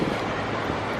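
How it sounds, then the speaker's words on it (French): Wind blows steadily outdoors by the sea in Monaco. It comes through as a constant broadband rush of close microphone buffeting over a short stretch, with no voices. "il y a du vent là"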